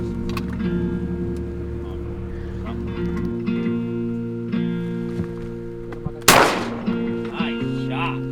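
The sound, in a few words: shotgun shot while duck hunting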